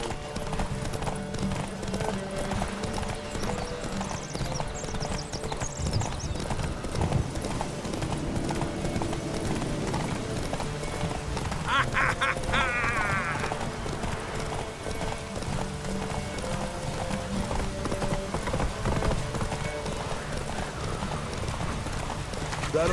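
Horses gallop in a race in the video game The Witcher 3: Wild Hunt, steady rapid hoofbeats running throughout with a brief whinny partway through, over game background sound and some voices.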